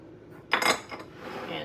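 A utensil scrapes and clinks against a bowl in one brief burst while vanilla is stirred into a peanut brittle mixture, then fades to quiet room noise.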